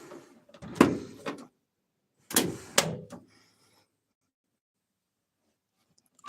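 Door locks on a 1950 Plymouth clunk through two quick mechanical actuations, each a short rattling knock close by, followed by quiet.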